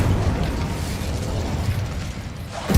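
A roaring, crackling burst of flame as the Incendio fire spell is cast in Hogwarts Legacy, a loud dense whoosh sustained throughout with a sharper pop at the end.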